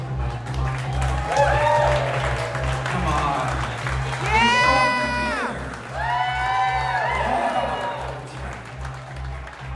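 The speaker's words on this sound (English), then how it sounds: "Big round of applause for the folks here at Overflow." Audience at an Ottawa art battle event cheering and clapping for the venue hosts, with loud whoops and shouts rising in waves over continuous thumping bass music while a voice speaks briefly.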